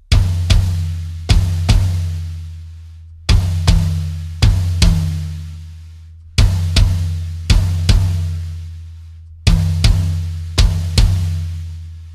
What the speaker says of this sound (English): we're going to play small tom, floor tom, and bass drum in unison